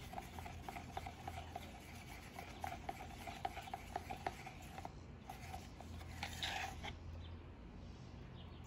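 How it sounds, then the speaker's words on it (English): Epoxy resin being scraped and stirred in a cup for pour art, a steady soft rubbing and scraping texture with small clicks of the stir stick, close and fairly quiet, with no talk. "And once more, just scraping all the sides and the bottom of the cup."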